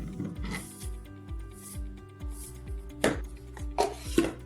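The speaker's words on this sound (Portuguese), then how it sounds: "Corte uma garrafa plástica ao meio." A plastic bottle is cut in half, giving a run of crisp, regular crunching snips at close range. The cuts are fairly quiet and nobody speaks.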